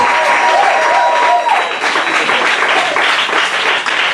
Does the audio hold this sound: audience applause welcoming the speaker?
yes